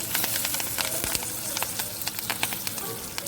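Dried red chillies, curry leaves and crushed garlic crackle in hot tempering oil for rasam, a steady close sizzle scattered with sharp pops and spits throughout.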